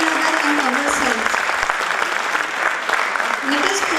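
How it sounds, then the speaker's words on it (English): Audience applause at a cultural evening of a government officers' wives association, steady dense clapping from a hall crowd filling the whole four seconds, with a faint voice or tone running underneath. "Now this time deserves a huge round of applause for ourselves as well."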